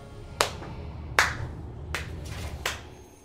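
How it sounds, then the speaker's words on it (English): Four sharp hand claps spaced under a second apart, each a crisp broadband smack standing out over a faint steady background hum. "That's me clapping."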